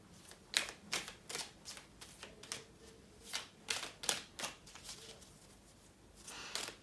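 Tarot cards being shuffled and drawn, a quick run of crisp riffling flicks and slaps close by, some clustered and some spaced apart, with no talk.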